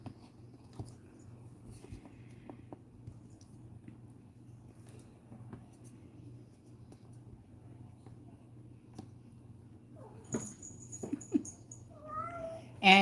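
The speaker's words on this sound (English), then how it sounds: "And if you can hear in the background, Boss Kitty is chasing, I think she's chasing little moths." A house cat meows in the background of a quiet indoor room while she chases moths, faint at first and then a few louder cries near the end over a low steady hum.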